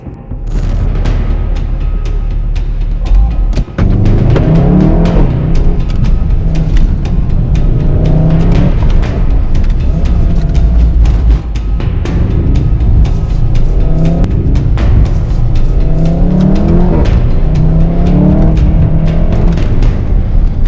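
A car makes its single run on a custom gymkhana track, its engine loud and close throughout, with rising and falling revs as it accelerates and slows and a sharp thump near the start.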